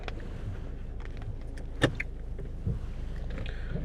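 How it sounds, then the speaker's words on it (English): The power-folding door mirrors on a 2017 Land Rover Discovery Sport HSE whir briefly from their electric motors, with a sharp click and a few soft clunks nearby inside the quiet car. "as you can see there, power folding door mirrors"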